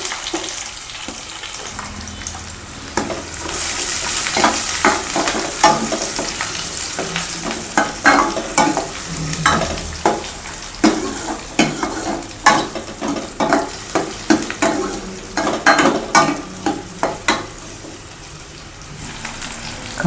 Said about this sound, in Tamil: கடுகு வெடிச்சிருச்சு. வெங்காயம் போட்டுக்கலாம்.